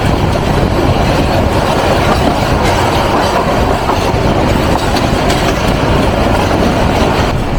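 The Tista Express passenger train on the Dhaka to Dewanganj route runs on rails with a loud, continuous rumble and rhythmic clickety-clack throughout, with no voices.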